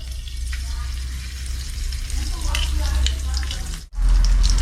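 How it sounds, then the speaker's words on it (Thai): Loud, close sizzling as sauce is added to a hot frying pan, a steady crackling hiss that briefly cuts out, then bursts back stronger. "ดี๋ยวเราก็ลงซอสลงไปเลยครับ"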